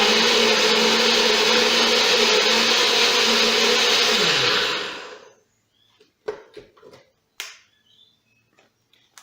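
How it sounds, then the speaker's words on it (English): A cheap blender whirs loudly and steadily while blending a recovery smoothie, then winds down and stops, followed by a few scattered clicks and knocks. "we've got to blend this up first"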